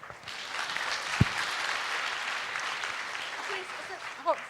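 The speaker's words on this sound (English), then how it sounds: "Can we give this young man a round of applause?" An audience at an event for international students applauds a young man, a soft steady patter of clapping with a sharp knock early and a voice speaking briefly near the end.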